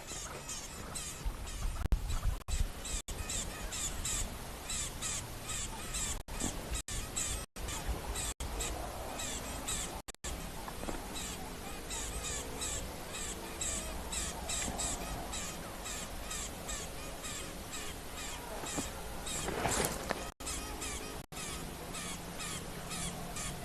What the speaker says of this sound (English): These birds are really yakking though.